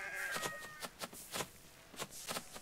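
Sheep bleat in a strategy video game, several short, fairly loud calls repeated at irregular intervals over a soft background.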